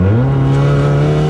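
A turbocharged Toyota Yaris with an automatic gearbox pulls hard under acceleration, its engine note loud and close, rising in a smooth, sustained drone with no one speaking.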